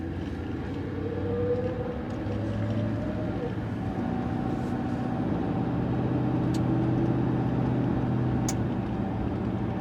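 A 2007 Ford Crown Victoria driving through Leesburg, heard from inside: a steady engine and road drone with low rumble and rising whines of gentle acceleration, a couple of faint clicks, no talk.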